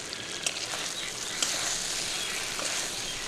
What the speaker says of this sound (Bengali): তো মশলাটা কষে নিচ্ছি চিড়ে রাখা কাঁচা লঙ্কা দিয়ে দিলাম